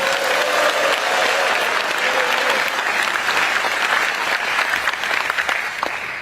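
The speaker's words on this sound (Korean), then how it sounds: "우리 이재명 대통령께 박수 한번 쳐드리면서 시작하면 어떨까요?" An audience at a public lecture on national affairs claps together in a loud, continuous wash of applause, with a faint murmur of voices beneath, tapering gently toward the end.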